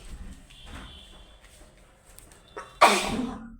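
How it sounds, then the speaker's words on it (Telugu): A single sharp sneeze bursts out near the end after a few seconds of quiet room sound, close and loud. "తుమ్ములు వస్తున్నాయి"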